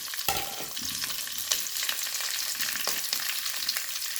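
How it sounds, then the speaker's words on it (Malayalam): Green chillies frying in hot oil in a pan, a continuous loud sizzle broken by a few scraping stirs of a spoon, with no talk. "പച്ചമുളക് ആഡ് ചെയ്യുന്നു"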